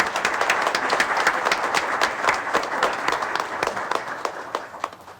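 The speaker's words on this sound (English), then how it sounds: "Another round of applause, please." Applause for elected officials at a township council reorganization meeting: a moderate, fairly close patter of many hands clapping, steady for several seconds before tapering off.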